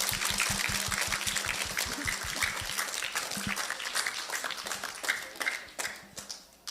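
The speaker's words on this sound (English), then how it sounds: "can we give our friend a round of applause?" An audience at a gathering gives a round of applause for a friend at the back of the room: sustained crowd clapping with crisp individual claps, a low hum underneath, and the clapping gradually thinning toward the end.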